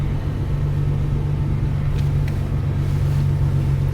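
A loud car engine rumbles steadily from inside the vehicle, a deep continuous low drone with a rough, lawnmower-like texture, holding constant throughout without speech.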